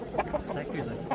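Roosters and hens cluck in short, repeated bursts at a busy bird market in Samarkand, close by, with people talking around them.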